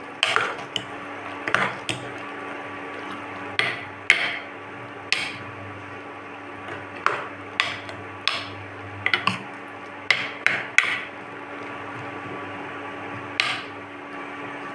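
A pot of bottle gourd kurma is stirred with a utensil, making repeated sharp clinks and scrapes against the pot at an irregular pace over a low steady background hum.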